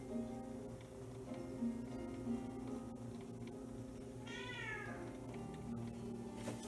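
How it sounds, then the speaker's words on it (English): Muffled meowing from a cat in another room drifts in, with one clearer drawn-out meow near the end, all over a constant low mechanical hum from an antique clock's motor. "That's the cat out in the other room,"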